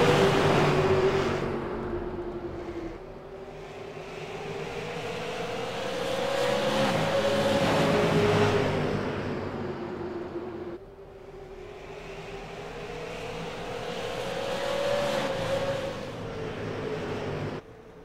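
Super late model race cars roar up to speed at the green flag of a 25-lap heat race at Five Flags Speedway, a loud rising engine drone that swells, dips and climbs again as the pack passes.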